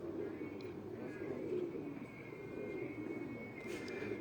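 Pigeon cooing steadily from a village rooftop, a soft low murmuring coo repeated over a constant hum of background noise, with faint chirps from other birds.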